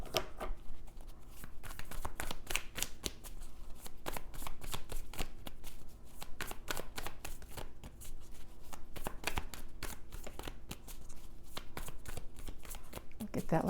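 Tarot cards being shuffled in a steady run of crisp riffling flutters and slaps, close and continuous, with a voice murmuring faintly underneath.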